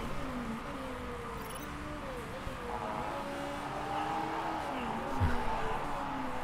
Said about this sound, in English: the engine is making some weird noises